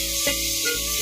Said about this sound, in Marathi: या फोडणीमध्ये हे मॅरिनेट केलेलं चिकन घालायचंय